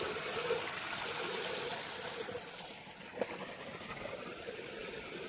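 A steady stream of water pours into a farm pond, a continuous close hiss and gurgle with an even level and one brief knock partway through.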